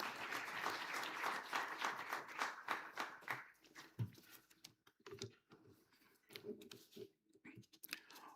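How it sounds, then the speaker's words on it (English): Audience at a Hindu economic forum summit in Pune applauding a speaker, a dense burst of clapping that thins into scattered individual claps, heard from a distance and fairly faint. "please give a round of applause."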